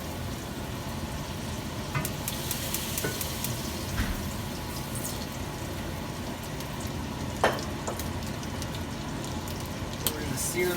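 Steak searing in a pan gives a steady, dense sizzle that holds evenly throughout, broken by a few sharper pops.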